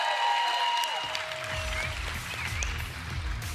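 Crowd applause at a pickleball match, a steady wash of clapping from a sizeable audience that starts abruptly and carries on evenly at moderate volume without talk.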